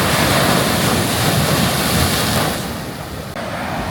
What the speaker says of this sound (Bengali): তবে এখানে জলের তোড় কিন্তু মারাত্মক।